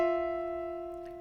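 Two piano notes, F and the E a seventh above, sounded together, a wide, slightly clashing interval, held and slowly fading.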